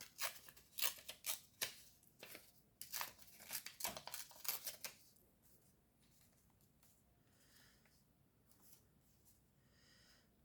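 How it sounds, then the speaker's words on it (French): Paper is torn by hand for a collage page, heard as a quick series of close, crisp rips and crinkles. They are followed by quieter rustling and handling sounds. "je déchire, je déchire"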